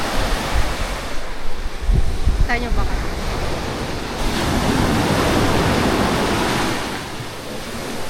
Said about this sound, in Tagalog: Oh, lakas ng alon.